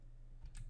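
A few soft computer keyboard keystrokes tapped quietly near the end of a brief, faint moment with no speech.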